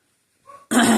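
A dog gives a brief low growl after a moment of silence, then lets out one loud, close bark that fills the end of the clip.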